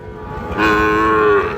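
A Sahiwal cow gives one loud, drawn-out moo of about a second, rising over faint background noise at a cattle farm in Brahmanbaria.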